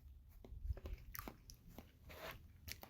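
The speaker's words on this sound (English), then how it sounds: "I'm eating a big old banana" A big ripe banana being bitten and chewed close to the mic, with soft wet bites and mushy crunching in a short, quiet burst.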